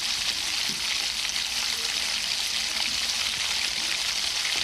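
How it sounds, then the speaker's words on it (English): Minced onions frying in a pan of hot oil for dal, a steady bright sizzle that holds evenly throughout, with faint occasional stirring ticks and no talking. "cook the onions until they turn translucent"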